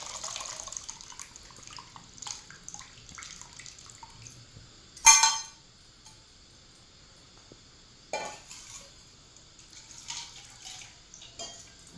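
Water poured into a simmering egg drop gravy in the pan, heard as faint trickling and bubbling with a sharp splash burst midway and a few smaller splashes later.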